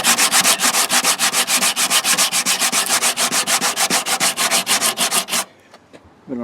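Body filler on the rear metal of a 1968 AMX is sanded by hand in fast, even back-and-forth strokes, loud and close, before the rubbing stops and only faint noises remain.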